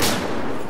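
Gunfire in Battlefield 4, a single loud, dense burst of shots lasting under a second, close and with nothing else heard.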